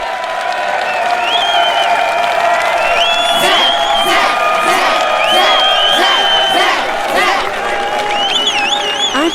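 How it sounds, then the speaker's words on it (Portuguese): A baseball stadium crowd roars for a player heading to home plate: loud, continuous cheering with scattered whoops, whistles and clapping, the din swelling and holding without pause. "A arquibancada gritava seu nome enquanto ele ia em direção ao home plate."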